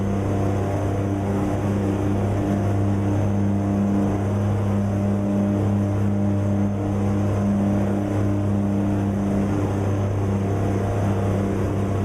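A Peterbilt truck engine in American Truck Simulator cruising at about 90 mph, a steady, loud, low droning hum that holds unchanged throughout with no voices.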